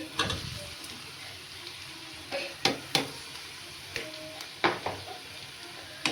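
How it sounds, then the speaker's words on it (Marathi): Potatoes are tossed into a hot pan and stirred, giving a soft background sizzle broken by several sharp, close scraping and clinking knocks of a spoon against the pan. "आता याच्यात टाकूया बटाटे."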